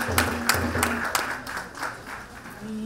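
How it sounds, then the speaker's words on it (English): Clapping at a traditional wedding ceremony worship moment, a few loose rhythmic claps with a low sustained tone underneath, moderately loud and steady throughout. "Let's clap for Jesus."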